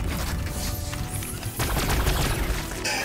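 Weapon fire in the video game Warhammer 40k Battlesector, including an overcharged plasma shot, sounds as a dense, loud burst of gunfire and impacts over constant battle noise, with no speech.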